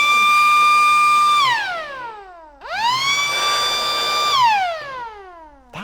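An aftermarket electric horn wired up on a Land Rover Defender L663 sounds in two loud, siren-like blasts, each holding a steady tone before sweeping sharply downward, with a short gap between them.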